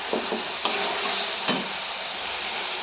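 Water goes into a pan of frying spices (onion, chili, turmeric) for a boal fish curry, producing a steady hissing sizzle punctuated by a few short knocks of a spoon against the pan, with no talking.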